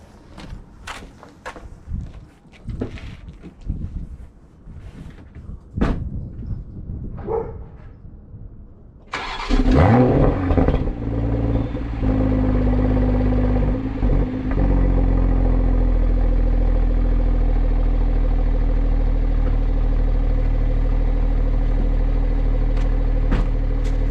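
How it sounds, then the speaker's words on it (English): A 2021 Toyota Supra fitted with an aFe Power catback exhaust starts up in sport mode, its engine catching abruptly after a quiet stretch, then settling into a loud, steady, deep idle that holds to the end. "now we're going to get a little sport mode start up"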